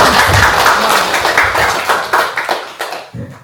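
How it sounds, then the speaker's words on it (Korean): Church congregation clapping for the volunteers who cleaned, a close, loud burst of many hands that thins into scattered claps and fades out near the end. "수고하실 분들 우리 미리 박수를 쳐줘야지"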